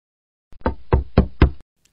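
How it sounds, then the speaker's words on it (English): Four firm, evenly spaced knocks on a door, close and loud, sounding alone against a quiet background. "Oh, someone's knocking at the door."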